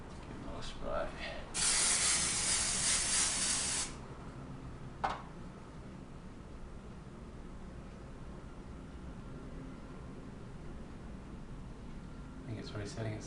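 A strong aerosol smoke detector test spray hisses steadily for about two seconds over a quiet room, followed by a sharp click and low background murmur.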